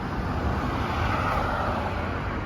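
Road traffic with bicycles, motorcycles and mopeds passing on a busy city street, a steady, fairly close wash of engine and tyre noise with no distinct single pass standing out.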